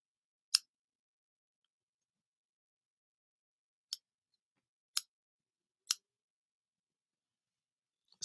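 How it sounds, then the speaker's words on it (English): Sharp pair of scissors snipping in isolated crisp clicks, one early cut, then three more spaced about a second apart, and a last one at the end, with silence between. "Get you a sharp pair of them scissors."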